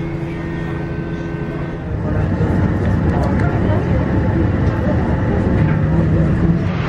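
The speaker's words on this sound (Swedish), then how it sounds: "Nu är vi på spårvagnen." A Milan tram rolls along with a muffled rumble heard from inside the car, growing louder and rougher after a couple of seconds as it picks up speed.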